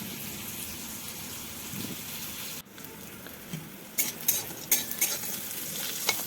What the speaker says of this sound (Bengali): উচ্ছেগুলো আমি ভালো করে ভেজে নিচ্ছি।